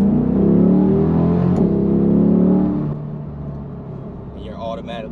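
A 2022 Corvette C8 Stingray downshifts and pulls away hard, its engine note loud and rising for a few seconds before easing into a lower drone as the car accelerates.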